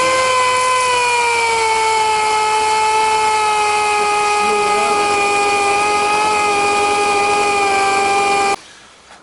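An air sander smooths a wooden chess knight on a lathe, giving a loud, steady high whine with sharp tonal layers that hold for about eight seconds before cutting off abruptly. No one speaks.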